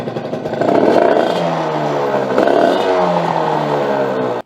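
A Derbi 50cc moped engine, low on compression, is started by hand and revved, a loud, close, raspy two-stroke drone that holds steady, swells once and cuts out abruptly at the end.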